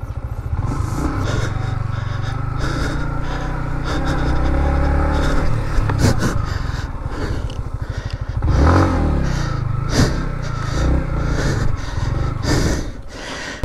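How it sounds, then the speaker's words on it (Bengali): A motorcycle rides through rain along a muddy riverside track with low-grip tyres, its engine a steady close drone over the whole stretch, mixed with scrapes and clatter from the rough, slippery ground. "এখন বৃষ্টির মধ্যে বাইক চালায় যাইতেছি"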